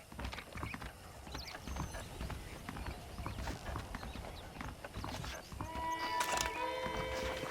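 Horse hooves clip-clop steadily in the Red Dead Redemption video game, a ranch setting, with rhythmic mid-distance footfalls, faint tack and mechanical rattles, and a brief whinny-like call toward the end.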